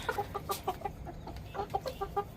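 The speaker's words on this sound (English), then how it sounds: "usually the roosters would take what falls to the ground and get it" Chickens and roosters in a farm yard giving rapid, repeated clucking calls in two quick runs, fairly close and moderately loud, with no talking.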